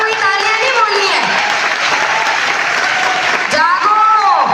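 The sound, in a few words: audience applause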